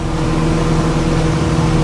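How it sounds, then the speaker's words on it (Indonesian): Loud, steady speedboat engine roar with a strong low hum, continuous and close throughout, no talk. "Deru suara mesin speedboat terdengar cukup kencang."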